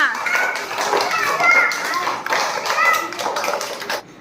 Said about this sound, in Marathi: सगळ्यांसाठी जोरात टाळ्या